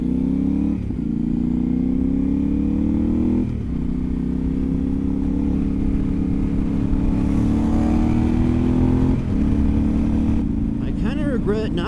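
A CFMoto 450MT adventure motorcycle with a baffled aftermarket exhaust cruises on a Rocky Mountain highway, its loud steady engine drone rising with acceleration and dropping at gear shifts, with strong wind rumble throughout.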